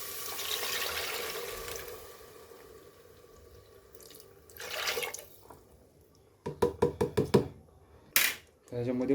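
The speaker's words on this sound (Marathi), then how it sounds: "त्याच्यात मटकी शिजवलेलं आपण पाणी घालून घेऊया." Water left from cooked moth beans is poured into reddened masala in a pan, giving gushing splashes, then a burst of rapid knocking pulses and another loud pour near the end, close by.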